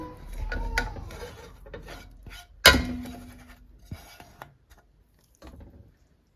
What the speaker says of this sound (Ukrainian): І знову беремо каструльку і висипаємо сюди моркву